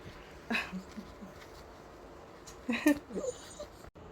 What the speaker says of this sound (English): That is my dog whining.